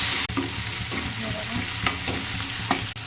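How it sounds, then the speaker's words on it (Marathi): Tomatoes and onion fry in a pan for dry chicken: a continuous close sizzle with occasional stirring scrapes and small clicks, steady and fairly loud, with no talking. "टोमॅटो मस्त परतून घेऊ"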